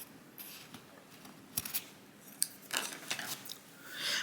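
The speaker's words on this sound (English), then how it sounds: "I think, I'm going to cut that thread. So I'm gonna cut the tail." Scissors snip through the thread tail of a peyote-stitch beadwork bracelet, giving a few short, crisp cuts at close range in an otherwise quiet room.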